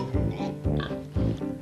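Piglets grunt and oink in rapid bursts while eating pig nuts on a farm, several close, loud snorts overlapping in a steady rhythm with no voices.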